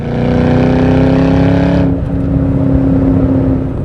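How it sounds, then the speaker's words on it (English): Supercharged 4.6-liter 2004 Ford Cobra exhaust rumbling loudly and steadily under acceleration, a strong harmonic engine drone that drops slightly partway through as if shifting, with no talk over it. "Got some good exhaust notes there for you."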